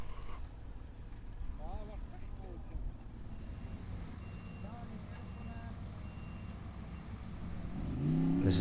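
A Formula Offroad racing car grinds up a steep hill at an event in Akureyri, Iceland, as a distant low engine drone that swells louder at the end, with commentary over it.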